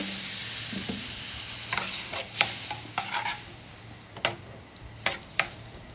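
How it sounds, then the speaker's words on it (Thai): Blended red chili stir-fries in a pan, a soft continuous sizzle broken by irregular scraping and sharp taps of a spatula against the pan. "จากนั้นก็ใส่พริกชี้ฟ้าปั่นลงไปค่ะ ผัดผัดทุกอย่างให้เข้ากันค่ะ"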